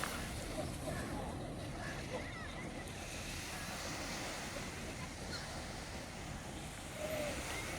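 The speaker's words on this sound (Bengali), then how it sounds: "কত বড় বড় ঢেউ হচ্ছে। পানির একটি শব্দ, দেখেন কত সুন্দর একটি শব্দ হচ্ছে পানির।" Sea waves break and wash continuously on a Maldives shore, a loud, broad rushing roar with wind buffeting the microphone.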